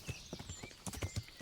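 Horse hooves clip-clopping on a road in the medieval game Kingdom Come Deliverance, a quick uneven run of thuds at moderate loudness with faint ambient tones in the background.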